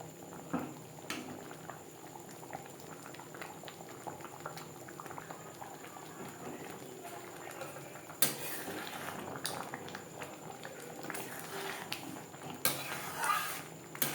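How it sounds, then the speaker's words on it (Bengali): Roasted ground coriander, fennel and dried chili are stirred into mango chutney bubbling in a pan, a faint steady simmer with intermittent spoon scrapes and clinks, close and quiet, no talk. "চাটনির সাথে ভাজা মশলা বেশ ভালো করে মিক্সড করে দেবো"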